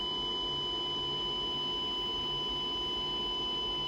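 A steady electronic test tone with added harmonics plays from a radio receiver, holding a constant, unchanging pitch and level throughout with no pauses.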